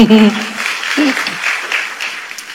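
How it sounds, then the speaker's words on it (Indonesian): Brief talking from a preacher during a church sermon gives way to a congregation clapping steadily, a scattered, sustained applause indoors. "Luar biasa, tepuk tangan dong."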